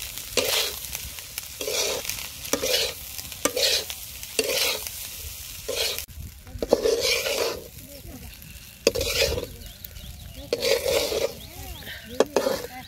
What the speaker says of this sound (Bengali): ভাতের উপর দিয়ে দিব লবণ, অল্প একটু হলুদের গুঁড়া, আর দিয়ে দিব ধনিয়া পাতা, দিয়ে খুব ভালোভাবে ভাতটাকে ভেজে নিব।